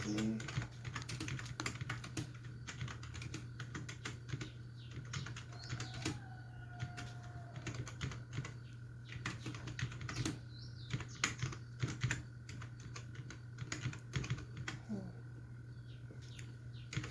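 Steady clicking of computer keyboard keys as HTML code is typed, a continuous run of light close keystrokes over a low constant hum, with faint bird chirps in the background.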